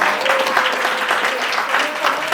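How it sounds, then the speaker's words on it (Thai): An audience at a music workshop applauding young singers, a continuous, even roar of many people clapping close by with no pauses. "ขอเสียงปรบมือให้กับน้องๆหน่อยนะคะ"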